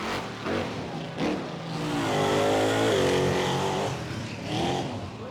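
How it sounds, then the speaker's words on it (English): Truck powered by a 572 cubic inch blown, alcohol-injected big block Ford engine revving in Texas, a loud rising roar that swells and holds before easing, heard from a moderate distance. "This is a 572 blown and alcohol injected big block Ford motor."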